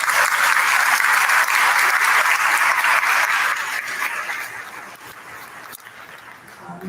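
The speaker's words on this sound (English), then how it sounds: "A round of applause for Jumana." Loud audience applause at a panel event on technology and Palestine, a dense even clatter of many hands that holds steady, then thins and softens over the final seconds.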